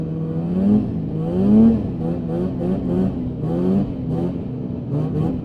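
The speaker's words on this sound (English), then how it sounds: "It sounds just like the old 550s I'm used to riding." A Polaris Indy 550 snowmobile engine revs repeatedly nearby, its whining pitch climbing and dropping in wavering surges.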